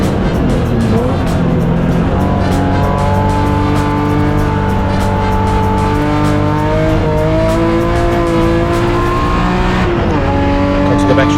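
BMW M Performance Parts Race Series cars race around a track at the Extreme Festival, their engines holding a steady, loud, layered roar as several cars run together, with a commentator talking over the top throughout.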